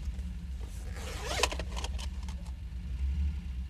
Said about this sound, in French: Faut quand même que je fasse chauffer le moteur.